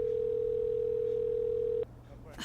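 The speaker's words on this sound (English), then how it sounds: "pick up the damn phone" A steady, continuous telephone tone hums for nearly two seconds and then cuts off abruptly as a call goes unanswered, leaving faint room noise.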